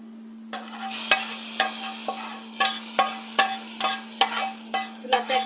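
Fried onion, garlic and red chilli tempering is stirred into lentil dal with spinach: a regular series of about a dozen sharp spoon strikes and scrapes against the pot over a low bubbling sizzle, close and clear.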